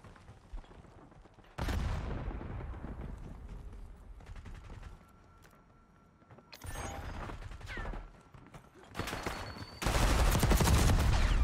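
Automatic gunfire in the Black Ops 6 video game comes in several loud bursts, separated by quieter gaps of background game noise.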